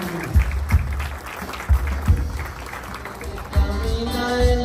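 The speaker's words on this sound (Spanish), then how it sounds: "Hermanos, le damos un fuerte aplauso al Señor en esta preciosa noche" At a wedding service, a congregation claps for the Lord: loud, rhythmic bursts of hand claps that rise and fall over several seconds, close and full, with a faint crowd murmur beneath.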